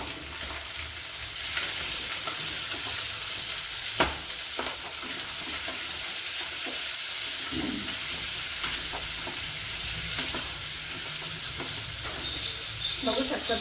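Green chillies and boiled potato fry and sizzle steadily in a pan for sabudana khichdi, a continuous close hiss broken by a few sharp stirring scrapes, with no talking.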